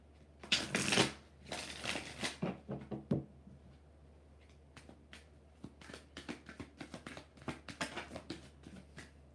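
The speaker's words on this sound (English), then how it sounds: "One more shuffle." Tarot cards being shuffled in quick riffling bursts, loud at first, then a run of lighter, rapid flicks and taps, close by with no talking.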